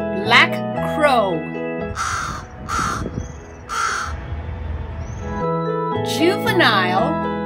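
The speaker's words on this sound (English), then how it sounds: "Black Crow." Several harsh, close crow caws come in short bursts, separated by a brief stretch of quieter rustling background.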